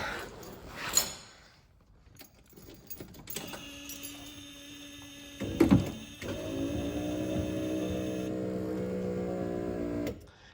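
Electric power window motor on a Mercedes-Benz 380SL (R107) whining steadily for several seconds after a few thunks and clicks, close and moderately loud.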